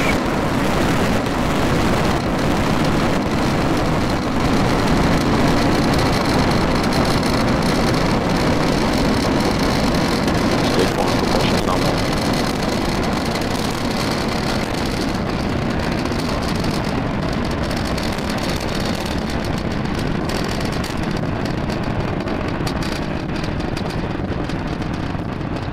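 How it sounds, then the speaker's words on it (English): A SpaceX Falcon 9 rocket carrying Starlink satellites lifts off on a Space Force launch, giving a loud, steady broadband roar that rumbles on without a break and with no voices over it. "we have just had liftoff of our Falcon 9 vehicle carrying our Starlink"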